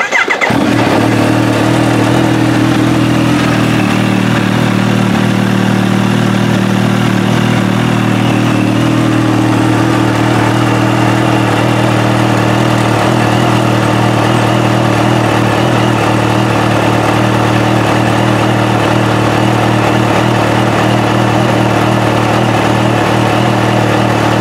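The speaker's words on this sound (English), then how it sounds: "I'm gonna let this thing idle with the Stage 2 Supercharger kit so you guys can" Kawasaki Ninja H2 motorcycle with a Stage 2 supercharger kit, loud and close, starting up and then settling into a steady, throaty idle that runs unbroken throughout.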